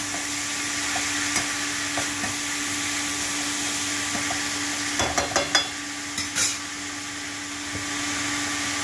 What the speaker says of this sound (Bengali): এবার এটাকে নাড়ি নেড়ে ঢেকে দেবো